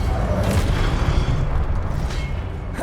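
A Confringo spell blast in the video game Hogwarts Legacy erupts as a loud, deep booming rumble that holds heavy low-end weight throughout and gradually thins out toward the end, with no talking over it.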